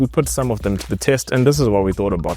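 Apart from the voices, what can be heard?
No distinct noise like a dog, phone or traffic.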